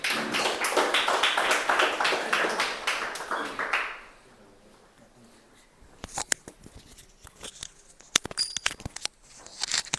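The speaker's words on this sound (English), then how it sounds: "with a huge round of applause" Toastmasters club members at a meeting in Whitefield break into dense applause that lasts about four seconds and then dies away. A quiet stretch follows before scattered taps and knocks close the clip.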